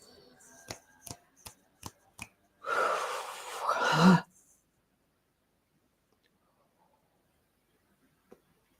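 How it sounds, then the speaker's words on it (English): A single deep inhalation, a breathy rush lasting about a second and a half and rising toward its end, follows a few soft taps; afterward there is near silence. "Take a nice deep breath in."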